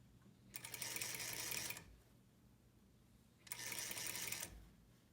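A sewing machine stitches a tailored collar lapel in two separate bursts of about a second each, divided by a quiet pause, its rapid needle chatter close and crisp against faint room hiss.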